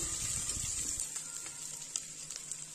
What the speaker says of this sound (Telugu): నెయ్యిలో చేయటం వల్ల మంచి ఫ్లేవర్ వస్తుంది పొంగల్కి చాలా టేస్టీగా ఉంటుంది కాస్త కరివేపాకు యాడ్ చేసుకొని ఫ్రై చేసుకోవాలి